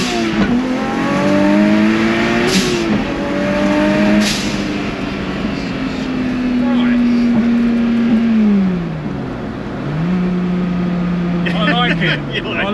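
A 600bhp rear-wheel-drive MG Metro 6R4 with a Ford Duratec 3.0 V6 turbo accelerates hard through the gears, its engine note rising and dipping at each shift, loud and close from inside the car; voices talk over it.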